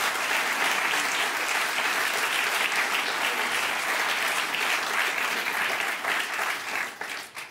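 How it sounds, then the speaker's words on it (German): Sustained audience applause on a German comedy club stage show, honoring two stage helpers during a heavy set change; dense, steady clapping that begins to thin out toward the end. "Hier auch mal Applaus für unsere beiden fleißigen Helfer"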